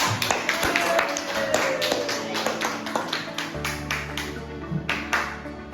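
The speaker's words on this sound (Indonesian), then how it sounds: "Tepuk tangan untuk kelompok." Primary-school pupils clapping for a group in a classroom, a burst of uneven claps close by, quick and scattered, fading into a few lighter taps toward the end.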